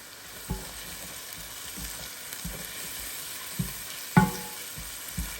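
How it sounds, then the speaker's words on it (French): Shallots, garlic and chili sauté in a pan for penne all'arrabbiata, a steady close frying hiss with scattered low knocks of a utensil stirring, one sharper clack near the end, no voices. "Et je fais revenir le tout."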